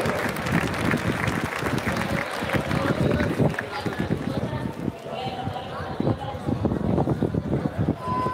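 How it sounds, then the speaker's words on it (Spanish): An audience at a horse-riding jineteada festival in Jesús María claps in a sustained burst of crowd applause, with an announcer's voice running over it. "le ponemos un aplauso"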